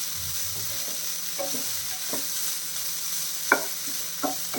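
Spring onions sautéing in a pan make a steady, close sizzle throughout, with a few soft clicks of stirring, and no voices.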